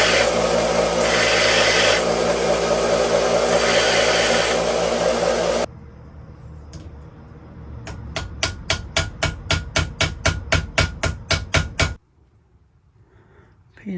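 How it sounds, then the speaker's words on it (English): Sanding a freshly cut pin flush on a knife being converted: a steady broadband rasp for several seconds, then a run of about a dozen quick rhythmic strokes, close and fairly loud, ending in near silence. "I cut it with the pliers and I'm gonna sand that down just a little bit."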